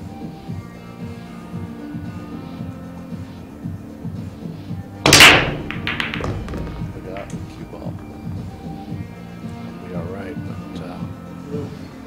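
A pool break shot in a billiards final: one sharp, loud crack midway, followed by a brief scatter of clicking ball collisions over a steady, low room hum.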